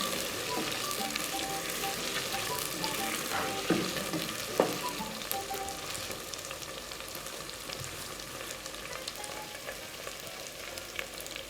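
Cut potatoes fry with well-browned onions as they are stirred, a soft, continuous sizzle with occasional utensil scrapes and light clinks, fairly quiet and close.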